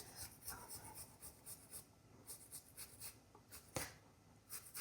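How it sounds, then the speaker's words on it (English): Fresh ginger being grated by hand for a zucchini soup, a soft repeated rasping that comes in short bursts with small pauses between strokes. It sounds close and quiet, and no one speaks. "We're gonna grate a little bit of ginger."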